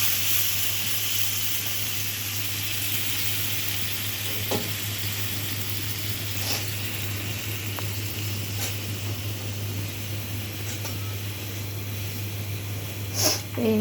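Fish and flat beans cooking in a pan without oil, giving a steady, close sizzle and hiss with a constant low hum, broken by a few brief clinks and scrapes of stirring.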